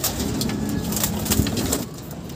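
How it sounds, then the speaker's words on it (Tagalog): A winning racing pigeon of Vandenbroek line coos in low, soft repeated notes close by, over a steady background hiss with faint distant engine noise. "ito papakita sa atin ni Boss Newton yung kanyang nanalong ibon"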